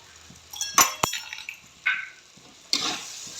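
Chopped mint and coriander stirred in a pan for a pigeon pea curry, with a few sharp spoon clinks on the metal pan between soft, faint sizzling and scraping, close by and without talk.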